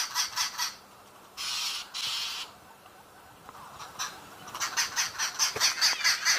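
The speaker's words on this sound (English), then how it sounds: "All these birds have come to alarm call at the snake" Several birds give harsh, repeated chattering calls in rapid bursts, with scolding rasps in between, fairly close and insistent.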